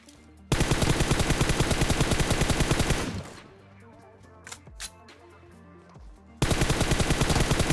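PUBG Mobile gunfire during a squad fight: a long burst of rapid automatic shots, a quieter pause with a few scattered pops, then the rapid firing resumes, loud and close.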